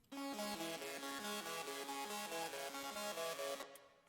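A bright synth lead plays a stepping melodic pattern with a spacious reverb tail, continuous and fairly loud, fading out at the end.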